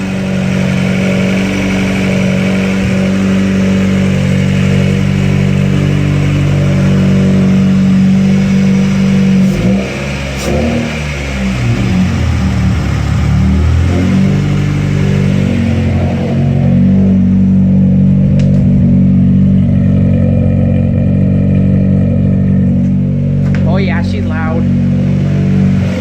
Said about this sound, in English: Glad to have the car running again.